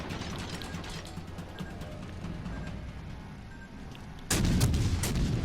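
Main guns of the USS Atlanta cruiser in the naval battle game World of Warships Legends boom in a rapid salvo, with repeated sharp blasts over a steady mechanical rumble that jumps louder near the end.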